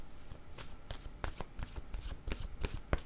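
Paper word cards are shuffled by hand in quick, soft riffling bursts and flicks, close and quiet, with no talk.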